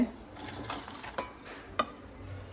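Boiled potatoes mashed in a kadai with oil, a few soft scraping strokes and metallic clinks of a utensil against the pan, quiet and close.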